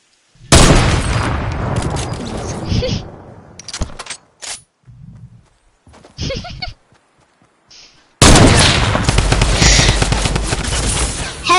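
Gunfire in Fortnite comes in dense bursts of loud booming shots, then a stretch of scattered single blasts and short gaps, then another long, heavy volley near the end.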